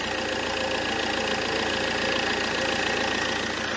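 A Fiat Multipla engine with an oil leak idles close by, giving a steady, even mechanical hum with a faint ticking texture and no talk.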